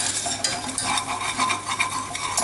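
A roux of butter and flour for white sauce is stirred in a pan, the spoon scraping steadily with repeated strokes beneath a soft, continuous sizzle, close and fairly loud, with no one talking.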